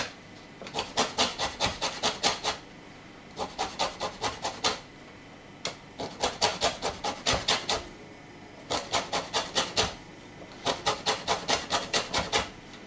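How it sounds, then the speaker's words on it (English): A soft, slightly old lemon is rubbed against a grater to remove its zest, making quick raspy scraping strokes in short rhythmic bursts separated by brief pauses. "I have 1 lemon, which I'm going to grate the zest."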